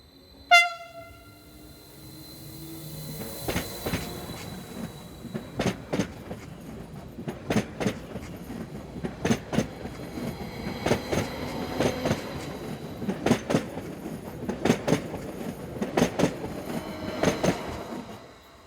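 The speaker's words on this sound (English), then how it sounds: "These are usually Class 521 units, such as numbers 20 and 33 seen here." An SBB Class 521 local passenger train passes on a Swiss line toward Basel, opening with a short horn blast followed by rhythmic clattering wheel clicks over rail joints, growing louder and steady as the cars roll by.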